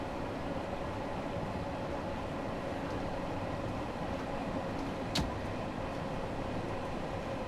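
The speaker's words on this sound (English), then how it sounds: "I will let the train coast." A London Underground Bakerloo Line train coasts along the track in the Train Sim World 2 video game, with a steady, fairly quiet rumbling drone and one brief sharp click partway through.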